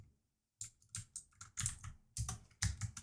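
Computer keyboard keys clatter in quick irregular bursts, close and crisp, with short pauses between clusters of keystrokes and no voices.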